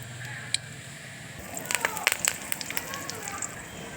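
Mustard and cumin seeds spluttering in hot tempering oil with turmeric and curry leaves, a soft background hiss punctuated by sharp pops and crackles that cluster in the middle and thin out, close by.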